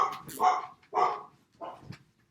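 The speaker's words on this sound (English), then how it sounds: "My dog." A dog barks three or four times in quick, uneven bursts, close and fairly loud, with no talking.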